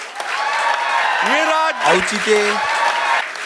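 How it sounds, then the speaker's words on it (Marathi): Audience applause at a Marathi YouTube comedy talent show, a dense steady clatter of clapping running throughout while a host speaks and sings over it. "एकदा जोरदार टाळ्या घालवे."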